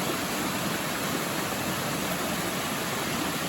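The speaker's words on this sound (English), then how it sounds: "Nice little rapids and a tiny little waterfall though." Small rapids and a tiny waterfall on a cold mountain creek on Spruce Mountain, a steady close rushing wash of water that runs evenly with no pauses and no voices.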